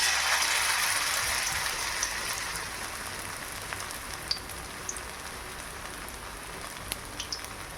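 Coriander leaf pakoras frying in hot oil give a steady, fairly soft sizzling hiss that eases slightly over time, dotted with scattered small pops and crackles.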